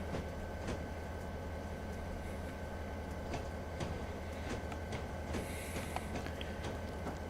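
Steady locomotive rumble in a train simulator game on the Fort Kent Subdivision, a continuous low drone with faint rhythmic clicks of rail joints and no talk over it.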